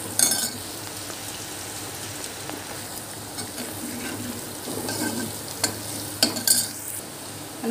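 Turmeric being stirred through hot oil in a pan, a continuous sizzle broken by scraping spoon strokes and a few light metallic clinks, close and fairly loud, with no voices.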